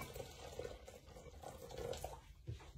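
Boiling hot water pours steadily and faintly into a container, a soft continuous splashing with small gurgles, close by and quiet.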